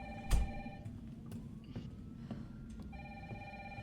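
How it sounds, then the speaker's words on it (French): A telephone rings in the survival horror game Resident Evil 3, two bursts of electronic bell tones separated by a pause, clear and fairly loud over faint game ambience. "Réponds au téléphone."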